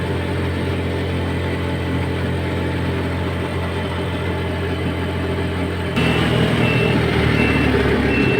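Roadside highway traffic rumbles steadily with trucks and cars, a low continuous engine drone that grows louder and nearer partway through, with a faint beeping in the mix and no talking.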